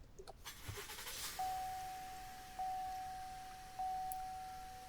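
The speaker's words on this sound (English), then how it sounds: "To do that, we have to start the vehicle." A Chevrolet, GMC or Buick SUV such as an Enclave, Acadia, Traverse or Blazer starts by push button with a short engine catch, followed by three evenly spaced chime beeps, quiet and close.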